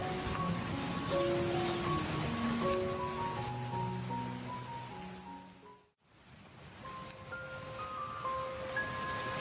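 Rain pours down steadily during a storm, a dense wash of hissing noise that dips briefly to near silence midway before resuming, with sustained musical tones layered over it.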